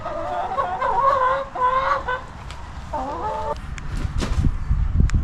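A blue Leghorn chicken lets out a few loud, drawn-out clucking calls up close, followed by rustling and scratching noises.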